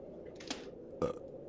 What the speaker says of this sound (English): I'm burping, dude